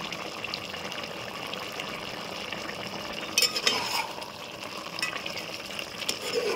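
Vegetables frying in oil for Andhra-style sambar, a steady bubbling sizzle at close range, with a burst of scraping stirring partway through and light clinks toward the end.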